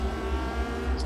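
In the racing game Forza Horizon 3, a car engine hums steadily as it approaches, a close, even mechanical drone lasting about a second with no talking.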